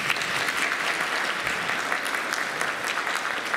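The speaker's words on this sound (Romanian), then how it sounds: "Încă un rând de aplauze." Steady audience applause fills a school concert hall at an arts high school after orchestral pieces, a dense even clatter of many hands held at the same level throughout with no voices.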